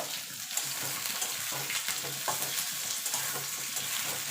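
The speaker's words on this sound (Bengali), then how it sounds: "এর সঙ্গে আলুটাও একটু ভাজা ভাজা করে নেব।" Potato fries with onion, garlic and green chilli in a pan, a continuous close sizzle broken by repeated scraping stirs and light clinks.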